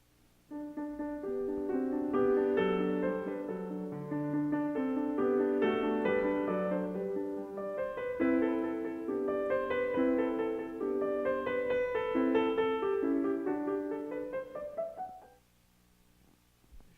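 A violin plays the flowing second tonal area of a recapitulation in a concert, sustained notes, moderately loud and clear, ending on a held note that fades into quiet.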